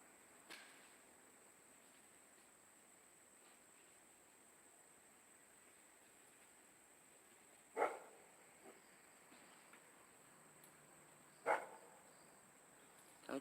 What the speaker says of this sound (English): That's a big old dog.